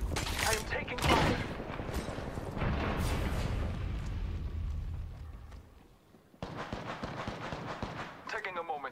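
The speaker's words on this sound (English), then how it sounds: "I am taking fire." Gunfire from the video game Apex Legends, heard as dense rapid bursts that rattle on loudly, dip into a brief lull, then resume with more shots.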